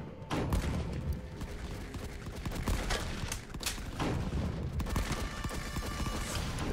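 Heavy gunfire in the World War 1 sandbox video game Rising Front, a dense unbroken barrage of rifle shots and thuds with distant booms, loud throughout.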